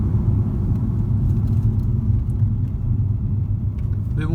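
A BMW 330xi running on E85 fuel idles steadily nearby with a low, even rumble that holds without change throughout.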